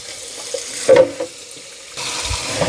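Water running and splashing as the tank of a Bissell CrossWave wet-dry vacuum is rinsed out. A steady tap-like flow is briefly broken by a louder splash, then continues as a fuller rush, close and alone.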